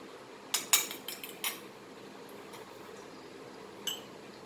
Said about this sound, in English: beat the egg